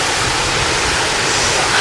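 Waterfall in the Black Forest, Germany, a loud, close, unbroken roar of falling water filling the whole moment.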